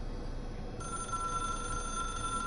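A telephone rings with a steady electronic bell tone, the hotline phone from the game Control, starting abruptly under a constant low hum and sounding clearly and alone.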